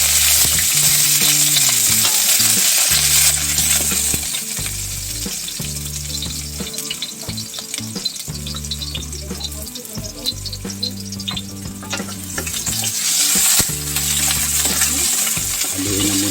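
Native chicken fries in a pan with a continuous loud sizzle, while utensils stir and clink against the metal throughout, accompanied by background music.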